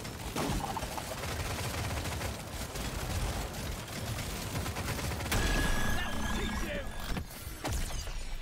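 Turret gunfire in the video game Deep Rock Galactic, a steady dense rattle of rapid shots running throughout, with a thin electronic tone and sharper impacts in the last few seconds.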